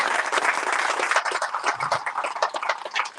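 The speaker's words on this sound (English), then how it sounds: "That deserves a round of applause" Outdoor crowd at a healthcare groundbreaking ceremony clapping in a lively, dense burst that holds steady for about three seconds with no speech over it.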